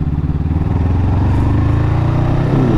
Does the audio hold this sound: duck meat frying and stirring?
no